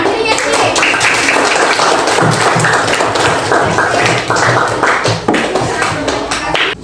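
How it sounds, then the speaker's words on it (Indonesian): A classroom of students claps for everyone at the end of a lesson on filtration, loud, close and continuous handclapping with scattered desk thumps, some voices faintly mixed in beneath it. "Oke, tepuk tangan untuk semua"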